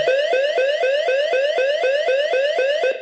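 An OPAX ARD-2545 burglar alarm panel siren whoops loudly and repeatedly, rapid rising sweeps in a steady rhythm, stopping abruptly at the end.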